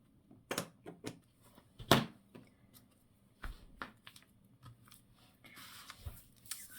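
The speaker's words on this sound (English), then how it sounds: "Snip it off." Scissors snip paper while making a folio, giving a few short, crisp cutting clicks, close and fairly quiet, with faint handling rustle between them.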